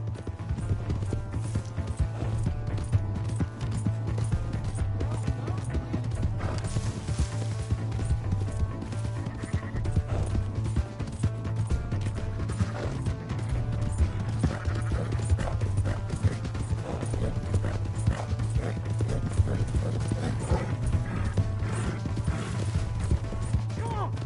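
Horse hooves clip-clop at a steady trotting rhythm in Red Dead Redemption 2, close and continuous, with a low engine-like drone and occasional voices and game sounds in the background.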